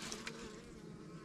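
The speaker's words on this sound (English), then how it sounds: "We got bees under there." Honey bees hum in a queen-rearing cell builder hive, a steady low buzzing drone at close range, faint and continuous with no talk.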